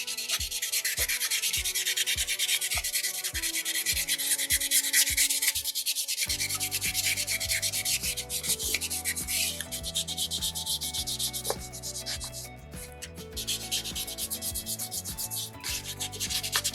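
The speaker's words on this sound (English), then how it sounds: "Last sandpaper, 600 grit, just to smooth this out one last time." Fine 600-grit sandpaper rubs over a soapstone carving in close, steady strokes, a soft continuous scratchy hiss with rhythmic pulses early on and no voices.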